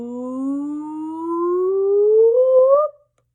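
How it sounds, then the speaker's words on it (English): A single voice slides smoothly upward from its lowest to its highest pitch on a whoop during a vocal function exercise, one clear unbroken rising glide that cuts off abruptly at the top. "we're going to glide from the lowest pitch possible to our highest pitch,"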